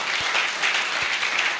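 A church congregation claps to welcome families, a dense, even patter of many hands filling the room briefly and steadily.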